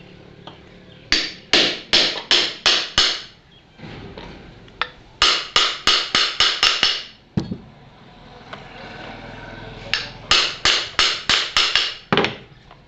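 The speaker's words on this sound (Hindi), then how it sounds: "अभी मैं इसको बराबर से ठोकूंगा।" A hammer strikes a nut into place on a ceiling fan bearing, landing in three clear bursts of about five or six rapid, sharp metallic taps, loud and close, with brief pauses between the groups.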